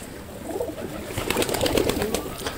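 Racing pigeons coo in a village loft, a few soft, low throaty calls close by against quiet background noise, with a brief flutter-like rustle.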